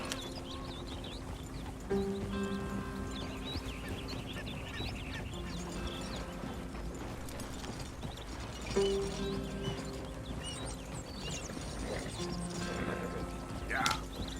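Horse hooves galloping in the video game Red Dead Redemption 2: a steady, rhythmic run of hoofbeats lasting the whole stretch, set against a busy game soundscape with brief voices.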